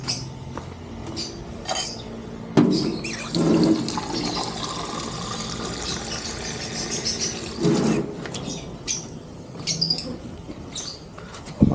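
Water splashes and trickles onto a punctured vehicle tire, checked for an air leak, with gurgling and a few sharp knocks, close by.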